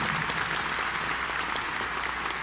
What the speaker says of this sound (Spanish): un aplauso por favor, en ese lado